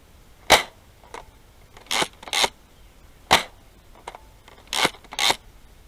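A Nerf blaster fires Buzzbee Mega Darts, about seven sharp spring-powered pops spaced unevenly, some in quick pairs, close and crisp against a quiet background with no talking.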